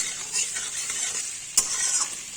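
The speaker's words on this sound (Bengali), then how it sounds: "এবার একটু ভালো করে নাড়াচাড়া করে" Vegetarian potato and cauliflower curry is stirred and fried in a pan, with close scraping strokes over a continuous sizzle and one sharp clink of the utensil.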